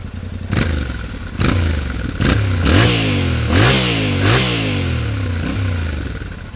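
A Yamaha Tenere 700 motorcycle engine revs repeatedly in short bursts, each throttle blip rising and falling, loud and close with a rough, clattering exhaust note.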